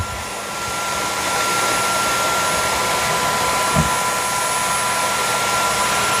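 Eureka RapidWash cordless wet/dry vacuum mop, model NEW430BL, cleaning a floor: a constant loud whining motor and suction roar with a brief wet slurp partway through, no talking.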